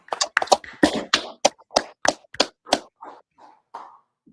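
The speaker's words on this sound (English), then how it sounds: "Y'all clap it up" About a dozen sharp, separate claps or hand slaps land close and loud in an uneven rhythm, then fade to softer, sparser hits, during a scripture talk where the class is handed over to a new speaker.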